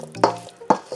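A spoon works through chicken salad in a bowl, two or three soft wet scraping strokes close by, with no speech over them.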